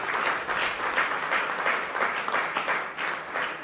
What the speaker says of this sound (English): I think we should clap for them once again.